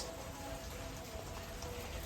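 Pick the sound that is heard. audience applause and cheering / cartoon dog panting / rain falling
rain falling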